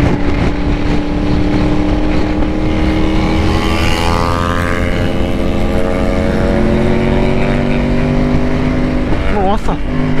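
A car on the road, its engine humming loud and steady for about ten seconds with slow shifts in pitch as it speeds up, and a brief quick rise and fall in tone near the end.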